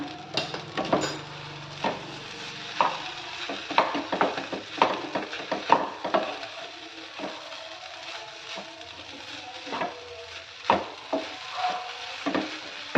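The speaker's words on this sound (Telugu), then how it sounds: "1 టేబుల్ స్పూన్ టొమాటో కెచప్ని నేను యాడ్ చేసి ఇప్పుడు ఫ్రై చేస్తున్నాను" Tomato rice stirred in a pan with a tablespoon of tomato ketchup, a soft sizzle beneath repeated scraping and tapping strokes of the spoon in an uneven rhythm, close by and without talk.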